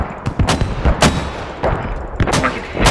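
Several sharp, loud gunshots crack in an irregular rhythm during a Squad battle, some close and some slightly distant, with no talking.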